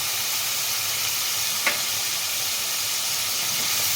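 Chili powder and cumin powder sizzle and fry in a pan for a pumpkin and shrimp curry, a steady close hiss with one brief clink partway through, no voices.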